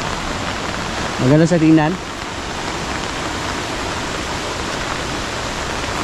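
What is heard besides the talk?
strong flowing water of a waterfall after rain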